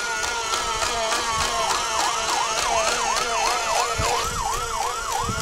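A toy fire truck siren wails in a rapid repeating up-and-down electronic warble, loud and close, cycling steadily over a faint background hiss, with no voices.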